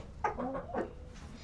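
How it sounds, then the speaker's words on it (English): A rooster in a chicken coop gives a few short, close clucks in quick succession, fairly quiet and with nothing else around it. "He has turned into a beautiful rooster."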